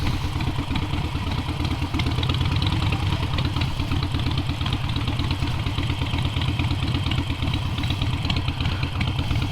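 A Harley-Davidson Iron 883 Sportster motorcycle engine with enlarged displacement runs close by with a steady, clattering rumble, holding a fairly constant throttle throughout.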